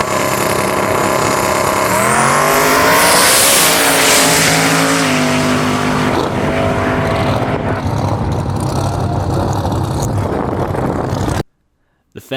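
A twin-turbo 363 cubic inch small block Ford drag car makes a loud pass at a small tire race event, its engine note climbing through gears with a whistling turbo spool, then roaring on and cutting off abruptly near the end.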